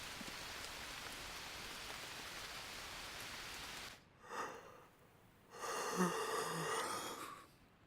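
Steady rain falling in the survival video game Green Hell, a dense, even hiss lasting about four seconds before it cuts out, followed by quieter game sounds and a burst of other noise.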